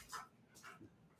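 Puppies at play give soft, faint yips and whimpers in a couple of brief bursts, heard at a distance with no talk.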